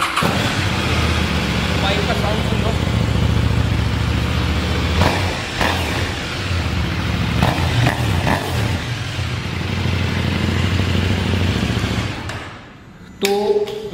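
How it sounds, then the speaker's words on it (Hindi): A KTM 790 Duke motorcycle engine fires up and settles into a steady, loud, close idle with a few brief revs. People talk over it, and near the end it cuts off briefly before returning. "सबसे पहले इस बाइक को स्टार्ट कर सकता हूं"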